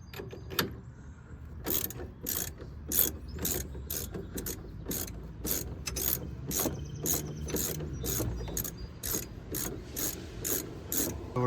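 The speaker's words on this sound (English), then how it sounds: "We're torquing them down now. We just got to get to 67 foot-pounds." Torque wrench ratcheting steering bolts down to 67 foot-pounds on a 2002 Ford F-350, a rapid series of close, sharp ratchet clicks in steady rhythm with a low rumble underneath.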